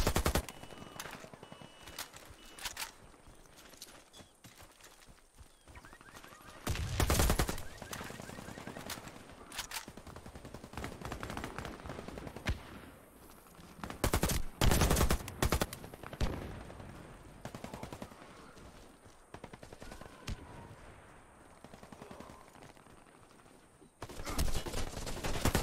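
Bursts of automatic gunfire in a video game fired at a fence, loud clustered volleys separated by quieter stretches of ambient sound.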